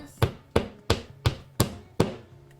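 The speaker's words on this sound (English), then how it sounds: "Careful not to hammer your fingers." Hammer striking a wall anchor six times at an even, steady pace, each a sharp close knock with a brief ringing tail, no talking.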